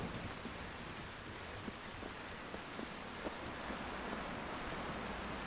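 Steady rain falls across a game world in Generation Zero, pattering on puddles and a muddy dirt road with scattered drop taps, a continuous, even wash with no voices.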